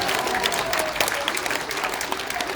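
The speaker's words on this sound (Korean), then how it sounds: "오늘 완전히 길 받으신 우리 이봉교 박사님께도 감사의 박수를 보내주시기 바랍니다" Applause from an audience at a community event in Korea, a steady dense clatter of many hands clapping for the whole stretch, fairly loud and even, with no talking over it.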